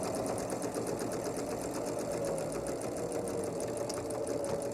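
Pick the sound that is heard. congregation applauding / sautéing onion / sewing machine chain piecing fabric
sewing machine chain piecing fabric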